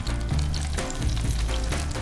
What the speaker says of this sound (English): you gently put them in and you get that little sizzle